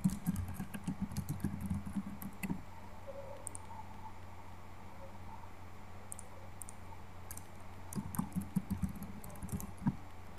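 Someone types on a computer keyboard while filling in form data, with clusters of quick clicking keystrokes near the start and again near the end, separated by a quieter pause.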